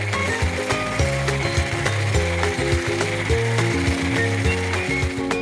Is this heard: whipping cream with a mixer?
yes